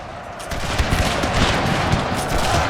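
Musket volleys from massed infantry in a Total War battle set in the Thirty Years' War, a dense, continuous rolling crackle of overlapping shots, loud and sustained throughout.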